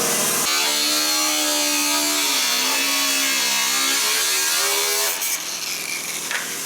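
An angle grinder cuts into the steel body of a BMW E34 M5, a loud, sustained high-pitched metallic whine with shifting pitch as the disc bites, then a brief drop near the end.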